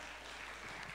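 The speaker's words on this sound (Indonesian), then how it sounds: "Yang percaya beri tepuk tangan dulu bagi Allahmu yang luar biasa." Congregation applause at a church service, a steady broadband wash of many hands clapping continuously through the whole moment, fairly quiet and without spoken words.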